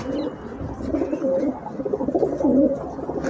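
Pigeons coo in a continuous, low, rolling murmur, fairly close and steady throughout, with no other sounds over them.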